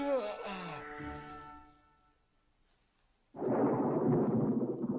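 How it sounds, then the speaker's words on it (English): Low, muffled rumble of thunder rolls in after a moment of near silence, following a brief stretch of voices at the start. "That's the thunder outside, Cody."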